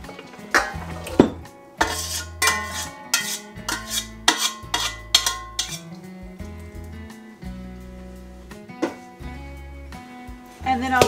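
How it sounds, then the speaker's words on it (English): Cooked barley is scooped from a pot into a large bowl, with repeated loud metallic scrapes and clanks of a utensil against the cookware in an uneven rhythm and no talk. "I'm going to get it out of this pot and into a large bowl."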